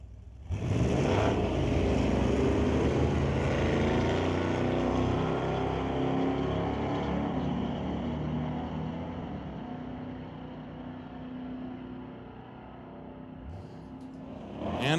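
A pair of Chevrolet S10 trucks launching at a street-legal drag race at Mission Raceway Park, engines roaring loud and close right away, then gradually fading as they pull away down the strip, with no talk.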